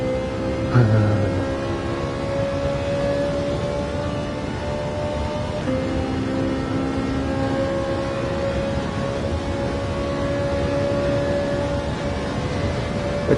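A Gran Turismo 7 racing car engine drones from the in-game cockpit view on Tokyo Expressway South, its steady tone shifting pitch as gears change, with a brief low thump near the start.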